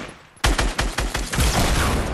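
Rapid gunfire in a video game, a burst of close, loud shots in a quick irregular rhythm that begins abruptly and runs on without pause, with no talking.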